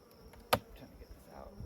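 Honeybees buzz around a beehive, a soft steady drone of insects with one brief louder buzz as a bee passes close, the rest a faint hum.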